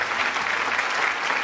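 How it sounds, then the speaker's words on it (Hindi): Audience applause at an indoor gathering, a dense, steady wash of many hands clapping, close and loud with no talk. "एक बार जोरदार तालियां अरविंद सर और राधा मैम के लिए।"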